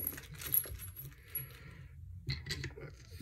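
A small metal thumb screw for mounting a Cooler Master MasterLiquid ML240L RGB V2 cooler fan being picked up, giving a few faint light metallic clinks and rattles in a quiet room.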